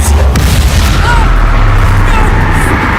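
In Hogwarts Legacy, the Bombarda spell sets off a loud, booming explosion with a heavy low rumble that holds steady for about three seconds.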